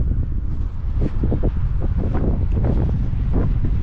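Strong wind in New Zealand buffets the microphone in loud, rumbling gusts that roar continuously with no pauses and no voices.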